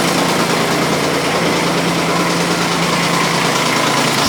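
A Kubota U10 mini excavator's engine runs at a constant, steady drone, near and loud, with no voices.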